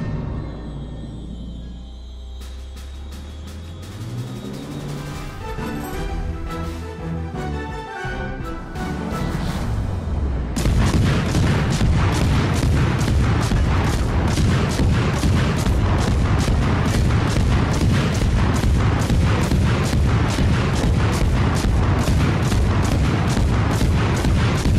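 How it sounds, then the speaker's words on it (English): Naval guns firing on a target in the video game Fletcher: a low rumble builds, then a loud, steady barrage of rhythmic booming shots carries on to the end without a break. "Fire on the designated target."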